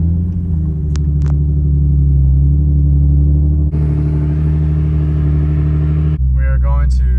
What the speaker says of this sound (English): Our last cold start before we put it in the headers.